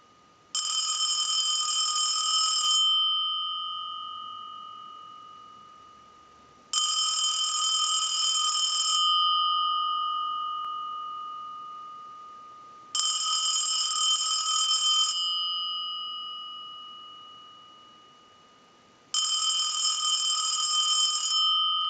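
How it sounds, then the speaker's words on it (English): An old European rotary desk telephone bell rings in four long bursts, each about two seconds, separated by pauses of several seconds, loud and close. "send a ring cycle like you were getting a call"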